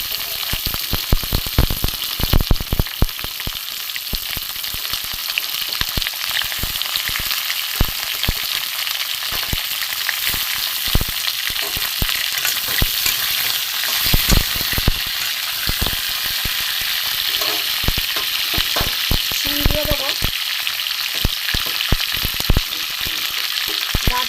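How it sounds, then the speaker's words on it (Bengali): Potatoes, carrots, green banana, papaya and beans fry in a wok for sukto, with a loud, steady sizzle broken by frequent sharp clacks and scrapes of a spatula stirring. "দেখুন সবজিটা ভাজা হচ্ছে।"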